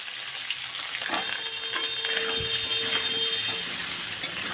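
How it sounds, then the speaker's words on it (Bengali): Potatoes fry with salt and turmeric in hot mustard oil in a kadai, giving a steady bright sizzle with occasional faint scrapes and ticks over a continuous hiss. "এবারে কড়াইতে সর্ষের তেল গরম করে আমি আলুগুলো লবণ হলুদ দিয়ে ভালোভাবে ভেজে নেব"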